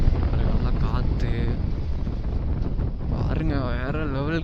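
Strong wind buffets the microphone on a motorcycle ride in Ooty, a loud rushing roar that fills the whole clip, with tonal engine or voice sounds rising near the end.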